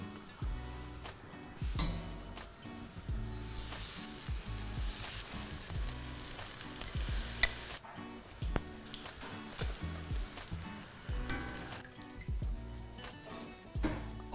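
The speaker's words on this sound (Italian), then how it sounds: "E ora siamo pronti per friggere" Battered cauliflower pieces frying in hot oil, a loud continuous sizzle and crackle with scattered pops and a few clunks of utensils, running for the full length with no talk.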